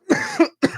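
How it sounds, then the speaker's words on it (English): A person coughs up close, two quick harsh bursts followed by a third after a brief pause, loud and rough-sounding, with no speech. "Cough. You hear that? That doesn't sound healthy, right?"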